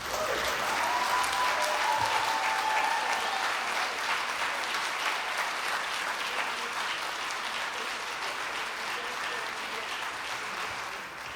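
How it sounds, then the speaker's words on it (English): Sustained applause from a large storytelling festival audience, steady and full throughout, slowly tapering slightly toward the end. "Can we give him another round of applause?"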